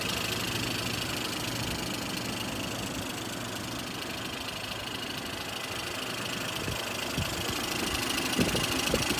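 A 2020 Mercedes-Benz GLE 450's turbocharged 3.0-liter inline six-cylinder, 362 horsepower, idles with a steady, even hum and a faint high whine, unchanging for about nine seconds, with no talk.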